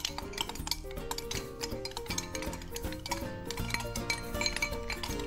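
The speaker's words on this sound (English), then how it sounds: "we're going to stir it round the bowl with our spoons" Spoons clinking and scraping around bowls as children stir ingredients for a spiced baked wrap in a kitchen, with steady light taps over soft background music.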